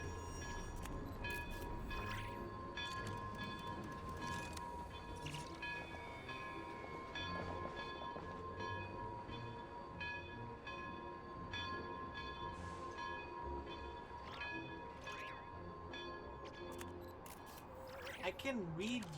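A train rumbles steadily along the rails with a continuous low roar and faint clicking throughout, while people talk quietly over it.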